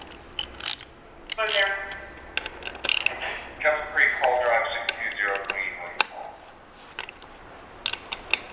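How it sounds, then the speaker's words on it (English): An 8mm ratchet clicks rapidly in short runs while loosening clutch cover bolts on a Honda CRF450L motorcycle, close and crisp, with metallic taps and voices talking between bursts. "8mm ratchet."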